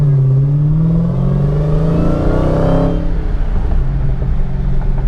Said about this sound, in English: that supercharger sound is just glorious